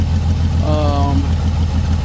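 Lowrider car engine idling with a fuel leak issue, a loud steady low rumble close by, with a brief voice partway through.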